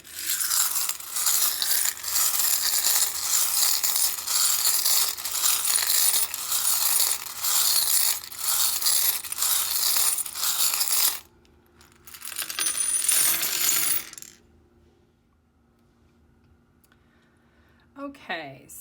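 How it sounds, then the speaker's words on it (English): Small charms are cast and laid out for a reading, a dense, continuous clatter of clinking pieces rattling and dropping for about eleven seconds, then a shorter burst of clicking, a pause, and a faint rustle at the end. "I am going to go ahead and get the charms laid out."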